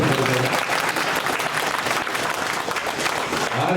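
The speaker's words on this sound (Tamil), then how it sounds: "அவங்களுக்காக ஒரு நல்ல கரகோஷம் கொடுக்குறோம்." Audience applause for child dance performers at an Ayyappa puja festival gathering, a dense, steady wash of many hands clapping at full strength for nearly four seconds.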